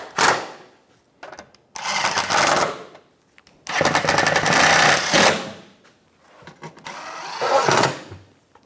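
Bolts on a Chevrolet Silverado 1500 skid plate are snugged down with a powered tool in three loud, close bursts of buzzing rattle, separated by brief quiet gaps.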